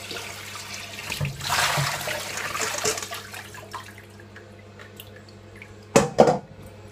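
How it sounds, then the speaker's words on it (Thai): Cold water being poured off boiled pork meatballs in a kitchen, a broad splashing rush over the first few seconds, then quieter drips and two sharp clattering knocks near the end. "จะมาเทน้ำเย็นออกแล้วค่ะ"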